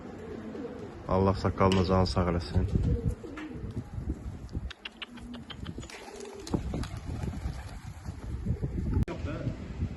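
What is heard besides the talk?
pigeons cooing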